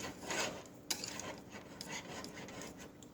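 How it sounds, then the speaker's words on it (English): A whisk scraping and rasping through banana pudding mixture in a bowl, quiet and steady with light metallic clinks against the bowl's side, no voices. "Just keep whisking it"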